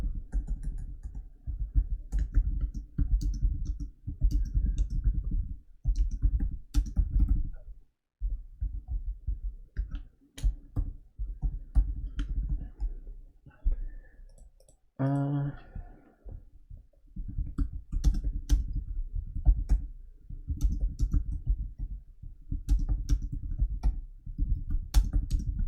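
Programming code is typed on a computer keyboard in a steady run of close, crisp key clicks with short pauses, with faint talk mixed in.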